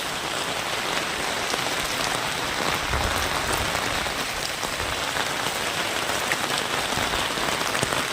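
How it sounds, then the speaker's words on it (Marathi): Heavy rain pours steadily on a farm house in the fields, a dense, continuous hiss of drops striking surfaces close by, unbroken for the whole stretch with no voices. "आणि इकडे पाऊस लागलेला जोरदार"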